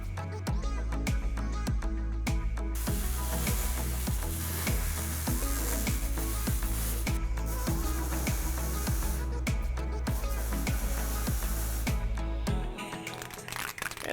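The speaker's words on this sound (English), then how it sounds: "And we're ready to weld." A Steeda subframe connector is welded onto a 1979-2004 Ford Mustang, giving a continuous crackling, sputtering sizzle with regular pops that runs for several seconds before stopping near the end.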